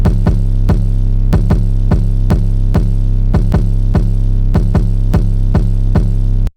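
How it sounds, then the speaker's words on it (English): A deep, bouncy 808 bass pulses in a repeating rhythm, each boomy note struck with a click, loud and alone. "I want like a bouncy 808 sound."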